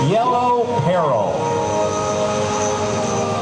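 A Stearman biplane's radial engine drones steadily at an airshow, loud and close, with a pitch sweep early on that settles into a sustained rumbling hum.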